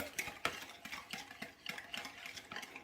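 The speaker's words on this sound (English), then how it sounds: "I'm gonna grab my whisk. Before we add in the honey, mix this together." A whisk stirs a seasoning mixture in a bowl for honey garlic pork chops, a faint, close, rapid ticking and scraping rhythm throughout.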